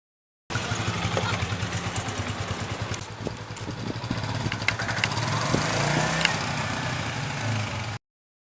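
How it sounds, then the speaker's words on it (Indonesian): Motorcycle engine used as a drama sound effect for a bike speeding past, a mid-pitched buzzing drone that stays fairly steady and close, rising slightly toward the end before cutting off abruptly. "tanpa sadar ada sebuah motor melaju dengan kencang"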